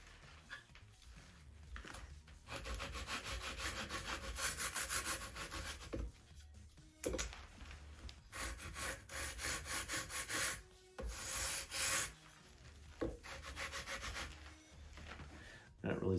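Wooden wing spars for a model P-40E Warhawk are sanded by hand with 60 grit sandpaper. Repeated rasping strokes run in bursts with brief pauses, fairly close but quiet.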